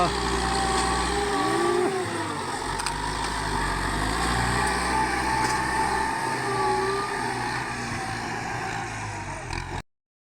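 A Kubota tractor levelling soil in a field, its engine droning steadily and loud, rising and easing slightly as it works, until it cuts off abruptly at the end.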